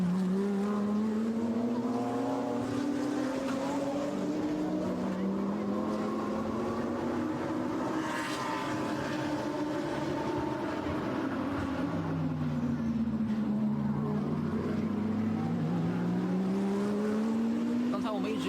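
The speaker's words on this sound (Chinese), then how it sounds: "关注到的 GT4 组别的3台赛车的争夺" GT4 race cars run on a circuit, their engines droning loudly with pitch rising and falling as they accelerate and brake, while a voice talks over them.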